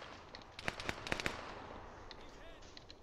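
Gunfire in the military shooter game Arma 3, a quick run of five or six sharp shots in a tight cluster, then quieter scattered pops over faint background noise.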